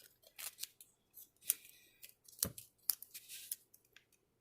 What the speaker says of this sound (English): If I can get these scissors to work.